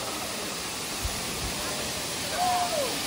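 Efrata waterfall in Sumatra, a huge cascade with people swimming below, gives a steady broadband rush of falling water throughout, with a faint whistle-like tone briefly near the end.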